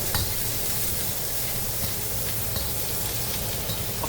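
Garlic stir-fried in a wok for Mapo Tofu, a steady dense sizzle with stirring scrapes, close and continuous without talk.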